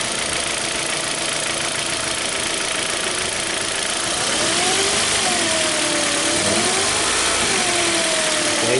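A 2012 Hyundai Accent engine, said to crank, start and stall, idles loudly and close by, then rises in a few revving swells and falls back, with a steady mechanical hum throughout.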